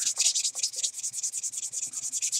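Sandpaper rubbed by hand on a prop during a workshop build, fast rhythmic back-and-forth strokes, close and fairly loud, with no talking.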